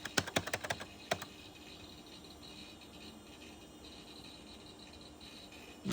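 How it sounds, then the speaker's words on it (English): Keys clatter on an old Gateway 2000 P5-90 tower PC keyboard, a quick burst of sharp close taps at the start, then only a faint background hum. "Now the keyboard's working."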